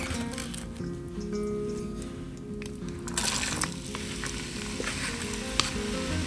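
Onions sizzle in melted butter and bacon fat in a trusty old Dutch oven: a steady, close frying hiss that swells briefly into a louder crackle partway through and carries on evenly.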